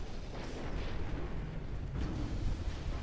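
Torpedoes launch during a naval engagement in Ultimate Admiral Dreadnoughts: a steady, heavy rumble of battle noise with two louder whooshing bursts, one early and one midway, and no talking.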